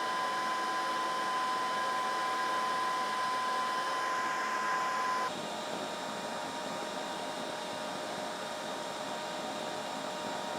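Two shop vacuums pull air through a PVC pipe dust collection setup in a constant loud whirring roar, which drops slightly in level midway as one machine changes.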